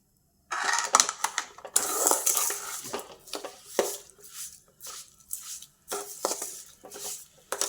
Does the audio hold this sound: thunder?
no